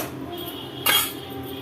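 A spoon stirs green salna (South Indian gravy) and knocks once against a metal pressure-cooker pot, a brief clanking scrape over a quiet kitchen background.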